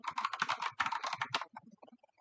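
Fast typing on a computer keyboard during an Arch Linux install in a virtual machine: a dense, close flurry of clicking keystrokes that thins into a few scattered taps at the end.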